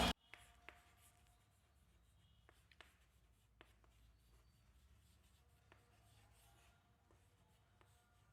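Marker or chalk writing on a board during a Class 11 maths lesson on triangles, a faint run of short scratchy strokes and taps spread irregularly over several seconds, with no voices.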